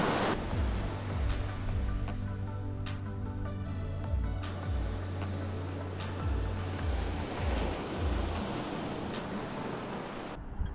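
Ocean surf rolling onto Huntington Beach in California on a cloudy day, a steady broad wash of breaking waves heard alone and fairly close.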